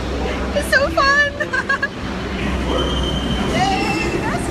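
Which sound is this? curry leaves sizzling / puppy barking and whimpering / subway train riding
subway train riding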